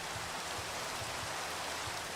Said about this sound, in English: we're dealing with the rain